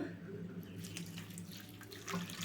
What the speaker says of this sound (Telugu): ఒక హాఫ్ కప్ అయితే వాటర్ పోసుకోవాలి